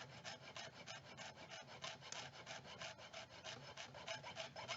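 A hand saw cuts through a coil of metal wire to make jump rings, with quick, even back-and-forth strokes rasping close to the microphone in a steady rhythm and no talk.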